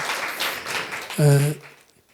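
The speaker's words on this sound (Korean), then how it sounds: "여기서 다 같이 한번 박수로서 환영을 해 주셨으면 좋겠다" Audience at a Buddhist dharma talk applauds to welcome a faraway Buddhist, a short burst of moderate clapping, followed by a brief voice.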